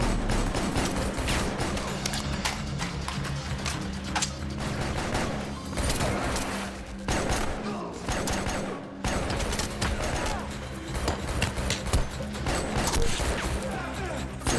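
Sustained rifle fire from an M416 in a shooting action scene, dense repeated cracks and mechanical clatter with crashes layered over a loud soundtrack, with a voice heard at times.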